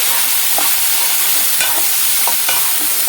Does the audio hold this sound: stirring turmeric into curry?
yes